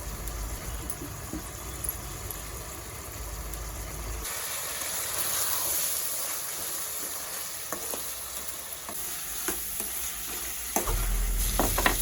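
Tomatoes fry in a pan with salt, turmeric, chilli powder and garam masala, a steady sizzle with occasional stirring scrapes and clicks, close and unbroken by talk.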